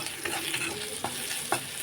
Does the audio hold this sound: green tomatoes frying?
yes